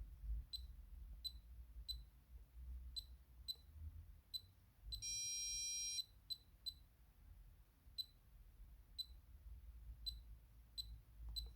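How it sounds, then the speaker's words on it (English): A Bosch 6000 alarm panel keypad gives a series of short, sharp, high beeps at irregular intervals, broken by one longer continuous tone lasting about a second, over a faint low hum in a quiet room. "This beep means it doesn't save"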